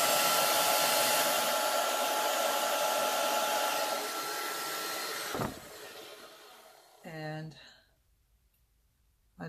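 A hair dryer blows loud and steady over a wet watercolor flower painting, then cuts off with a click; afterward a brief voice is heard in the quiet room.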